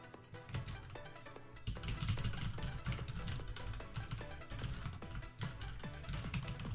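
Rapid, irregular clicking on a computer mouse and keyboard at a PC while topping up an online account, a dense run of light taps close by with no voice.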